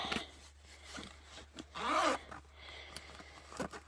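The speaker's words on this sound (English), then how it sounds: "If I can get the zipper to move." A zipper on a case being pulled in a few short tugs, then one longer rasping run, close by, with small handling rubs around it.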